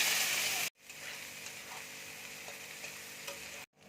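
Steady, close sizzling of chopped onions frying in hot oil with black cumin, with a brief loud burst at the start before the crackle settles into a constant hiss.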